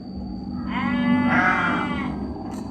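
A sheep bleats loudly and close by for about a second and a half while being tied up, over a background of faint rustling and movement.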